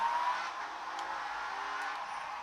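A racing car engine drones from the video game Project Cars, a steady, fairly quiet whine with a faint tire skid, running alone without talk.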